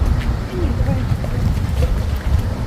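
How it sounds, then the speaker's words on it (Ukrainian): Gusty wind buffets the microphone with a low, uneven roar, and a voice is faintly audible in the background. "дуже вітряно, вітер у нас"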